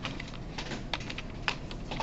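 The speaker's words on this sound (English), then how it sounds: "love this keyboard" Computer keyboard typing during a programming lecture, quick irregular keystrokes clattering close by with a few sharper taps standing out.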